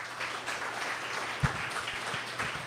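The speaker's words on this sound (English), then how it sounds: "And let's give him a round of applause." Audience at a marketing networking event applauding, a sustained patter of clapping from a modest crowd at moderate level.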